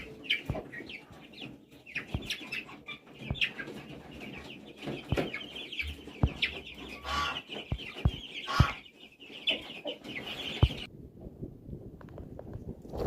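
Young chickens newly moved into a larger heated pen with a turkey, giving steady soft clucks and cheeping close by, broken by sharp taps and scratching sounds, with no talk.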